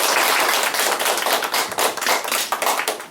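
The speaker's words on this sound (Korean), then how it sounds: "먼저 큰 박수로 토론회 시작하도록 하겠습니다." Loud, close crowd clapping opens a Korean youth employment debate forum, a busy patter of many hands with sharp irregular slaps that runs unbroken for a few seconds before tapering off.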